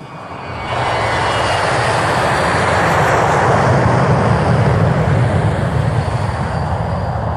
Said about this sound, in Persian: ارتفاع ما 29000 از سطح دریای آزاد خواهد بود و سرعت هواپیما حدود 550 مایل در ساعت معادل 720 کیلومتر خواهد بود.